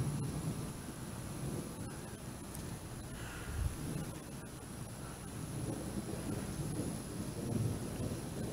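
A July thunderstorm outdoors: steady rain hiss with low rumbling thunder that swells around the middle, plus a faint crow cawing in the distance, fairly quiet overall.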